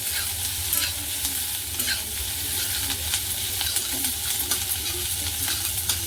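Onions fry in a pan for a chicken sukka and village-style rassa, a steady loud sizzle with scraping stirs and small clinks throughout, no voices.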